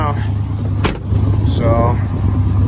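A square-body dually pickup truck's engine idling after running, a steady low rumble up close with a brief sharp click partway through and a voice speaking over it.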